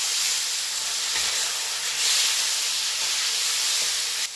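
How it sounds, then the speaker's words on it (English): Chicken sizzling in a pan on high heat for a chow mein, a steady broadband hiss of frying that holds evenly throughout with no talking. "I'm going to throw in my chicken. And I got it on pretty much high heat. And I'm going to let that cook through."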